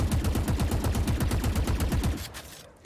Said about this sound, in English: we're just ADSing and firing